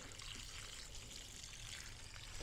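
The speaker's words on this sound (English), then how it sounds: "And just water it in." Water trickles and pours steadily into a potted dwarf tomato plant after fertilizer is added, a faint, continuous close dribble with no speech.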